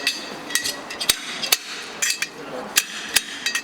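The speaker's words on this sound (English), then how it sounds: "This is a little slide hammer" A small slide hammer used on a Silver Cloud's brakes strikes repeatedly, sharp metallic clacks in an uneven rhythm, about a dozen distinct hits, close and clear over a quiet background.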